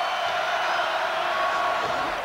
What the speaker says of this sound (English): Now they should use about 7-8 passes to quiet the crowd down.